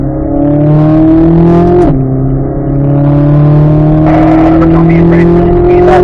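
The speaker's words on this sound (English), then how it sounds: "Now accelerate down a straight line here." Race car accelerating hard down a track straight, its engine a loud, close drone that climbs steadily in pitch, breaks briefly at a gear change, then rises again.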